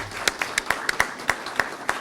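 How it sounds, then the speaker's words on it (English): An audience at a panel event gives a hand of applause, heard as sparse, separate claps in a loose, fairly even rhythm with a soft clatter of more clapping behind them. "please give her a good hand of applause"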